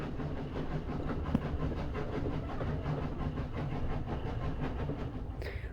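A steam train runs on rails with a steady, continuous rumble and faint rhythmic clicking of wheels, heard alone at moderate distance with no talk.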